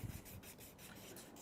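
Hand sanding a resin blank held on a locked lathe, a steady, faint back-and-forth rubbing with soft regular strokes, close up and without talk.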